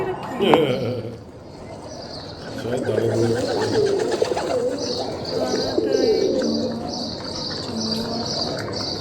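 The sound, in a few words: pigeons cooing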